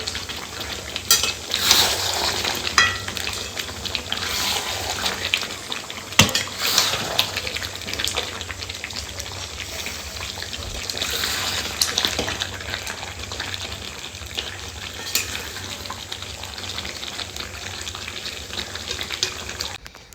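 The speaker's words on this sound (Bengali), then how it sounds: "সামান্য একটু জল দিয়ে আমি শিলপাটাটা ধুয়ে ওই মশলার জলটাও কিন্তু দিয়ে দেবো।" Water splashes and trickles over a stone grinding slab (shil-pata) as it is rinsed, with scattered scrapes and clatters along the way. The sound is steady and close, with no talking.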